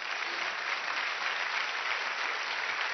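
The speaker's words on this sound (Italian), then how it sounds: "Aspetta, c'è l'applauso." Dense, steady applause from a TV studio audience fills the whole stretch as a continuous wash of clapping with no voices heard.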